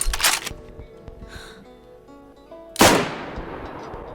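Two sharp gunshots ring out in DayZ, one at the start and a louder, closer blast near the three-second mark with a long decaying tail; quiet game ambience fills the gap between them, with no talking.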